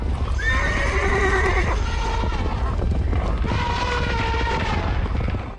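A horse sound effect with two loud, drawn-out neighs, each a wavering whinny, over a steady low rumble with faint hoof clip-clops, set under narration about the first horses of the Paleocene.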